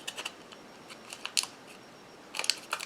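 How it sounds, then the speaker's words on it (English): Foil is folded back off a cured 3D gel, giving scattered crisp crinkles and crackles, close up, in short bursts separated by quiet moments. "I'll just start folding the foil back"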